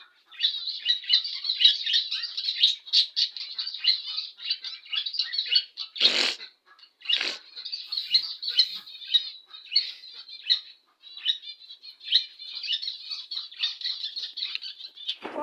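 Budgerigars keep up a continuous chorus of high chirps, warbles and chatter, with a couple of sharper, louder squawks standing out, fairly close and with no one talking.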